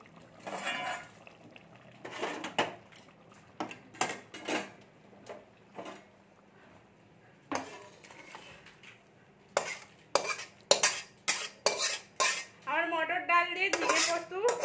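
Utensil stirs ridge gourd and pea dal sukto in a metal pan, giving repeated clinks and scrapes in irregular bursts with brief pauses, close and fairly loud, with a faint sizzle underneath.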